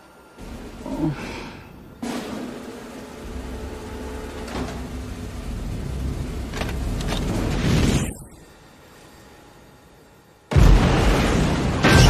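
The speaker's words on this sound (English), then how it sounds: "Hover tank, fire when ready." A military hover tank firing during a demonstration gives loud, sustained roaring rumbles with abrupt starts and stops, a sharp burst near the end, heard alone without speech.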